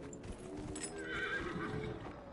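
Hooves clip-clop in a steady gallop alongside a horse's whinny in the fantasy game Dragon Age: Inquisition, close and fairly loud over a busy game background, with no talk.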